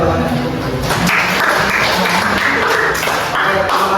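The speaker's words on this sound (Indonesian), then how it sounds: "Tepuk tangan buat teman-teman." Applause from a group of classmates in a physical education teaching session, a steady wash of clapping running throughout with voices mixed in underneath.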